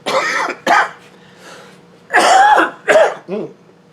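Several harsh coughs close up, coming in bursts with short pauses between them.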